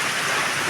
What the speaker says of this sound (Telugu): ఇప్పుడైతే వర్షం అయితే వచ్చేస్తుంది.